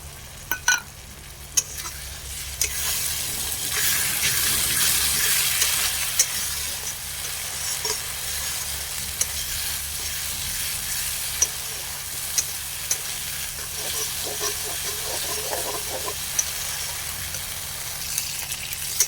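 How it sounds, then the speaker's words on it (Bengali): Poppy seed paste fries in a pan for rohu fish curry, with continuous close sizzling and occasional stirring scrapes and taps throughout. "এখন পোস্ত বাটাটা দিয়ে দেবো"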